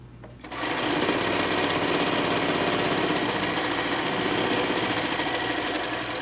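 A sewing machine runs steadily at close range after a brief quiet start, stitching quilt cornerstones into a cornerstone border on a peacock quilt top made from a panel, with a continuous motor hum and rapid needle rhythm.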